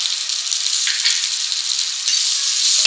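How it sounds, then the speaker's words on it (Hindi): Corn cooks with red chili powder and garam masala in a pan for a creamy spinach-corn dish, producing a constant bright, hissing sizzle up close with faint scraping taps of stirring throughout. "ये सारे मसालों को कॉर्न के साथ कुक कर लेना है थोड़ा सा।"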